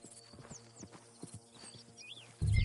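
Horse hooves clip-clopping in Red Dead Redemption 2, a quiet, uneven run of close hoof knocks at a walking pace, with birdsong chirping faintly behind and a sudden louder rumble at the very end.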